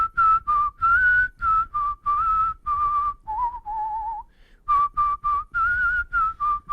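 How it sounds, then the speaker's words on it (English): A person whistles a song: a clear, close melodic whistle in short phrases with brief pauses and a slight flutter, alone with no talking. "I'm not gonna lie, his whistle's pretty beautiful."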